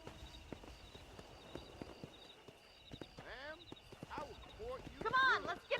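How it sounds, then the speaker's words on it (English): Wild horses run across open country in Red Dead Redemption, with a quick clatter of hooves and rising whinnies and neighs that grow louder toward the end, over a quiet outdoor backdrop. "That ranch hand said there's a pack of wild horses nearby."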